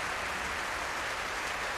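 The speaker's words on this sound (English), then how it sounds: "Thanks a lot for the applause." Audience applause at a live harp performance, a steady wash of clapping that stays even and fairly loud throughout the short burst, with no voices over it.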